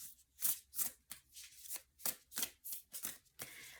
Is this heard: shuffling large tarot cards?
yes